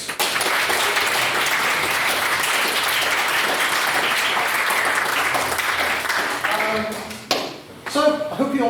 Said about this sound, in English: I'd like a big round of applause to thank our excellent judges.